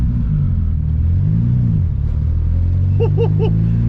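A 1972 Ford Pinto Runabout with a Motorcraft carburetor drives in second gear, its engine giving a loud, steady, close-up rumble that rises and falls slightly, with faint clatter near the end.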